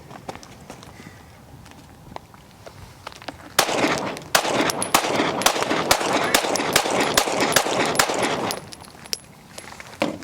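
A Glock G45 pistol fitted with a compensated barrel fires at an outdoor shooting session, with a rapid string of sharp, loud shots packed closely together through the middle, preceded and followed by quieter clicks and handling sounds.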